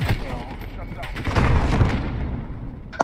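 RPG blasts and grenade explosions thud and rumble one after another in a video game firefight, with gunfire crackling between them and a sharp final bang, under a talking voice.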